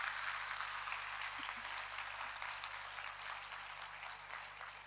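An audience at an environment olympiad event claps steadily for several seconds, a diffuse, fairly soft wash of applause with a low electrical hum underneath.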